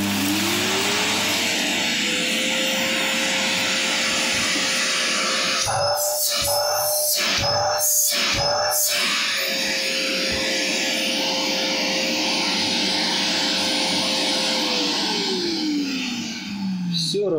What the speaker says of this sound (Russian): Все работает.